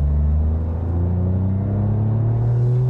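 A retromod Alfa Romeo Giulia Quadrifoglio engine holds a deep, steady exhaust rumble close by, its tone slowly rising as it pulls, with no voices over it.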